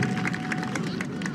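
Crowd clapping at an outdoor political gathering addressed by a president, steady dense applause with some crowd murmur throughout, fairly distant and even in level.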